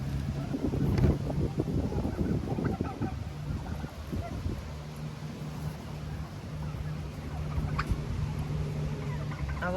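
Domestic chickens in a henhouse, soft clucks and poultry calls scattered through steady low background noise, with a faint hum and some shuffling.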